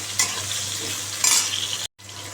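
Panch phoron spices crackle and sizzle in hot oil in a pan for a gourd and potato curry, with steady frying noise, stirring scrapes, and two brighter bursts of spitting, then a brief cut to silence.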